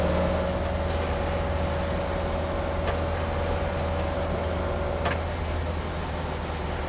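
Porsche 911 hotrod, a lightweight build on soft Bilstein or Koni shocks, cruising at about 40 mph with a steady low engine and road drone, a faint tonal whine and tire rumble, and no voices.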